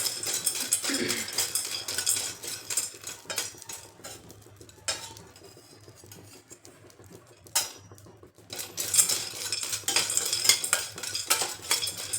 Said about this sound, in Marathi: आता आपल्याला डिंक असाच भाजायचा आहे